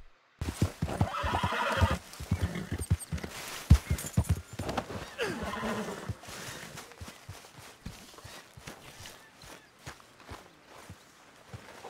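Horse in Red Dead Redemption 2 whinnies and neighs near and loud, then clip-clops along in a steady walking rhythm with brief trotting bursts, hooves thudding repeatedly through the rest.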